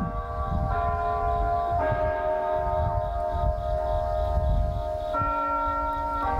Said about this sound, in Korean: 오취교회의 종소리가 온 마을에 울려 퍼집니다